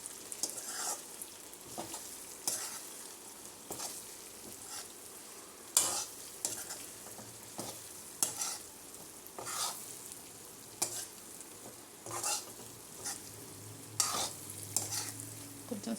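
Stuffed eggplant masala curry with chili powder being stirred in a frying pan: steady sizzling with repeated scraping spoon strokes at a regular rhythm, close and alone.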